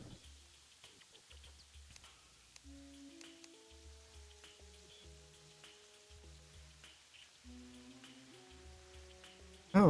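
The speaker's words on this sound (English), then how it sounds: "It's just raining." Rain patters softly and steadily in the Terraria video game, faint and close beneath gentle background music notes.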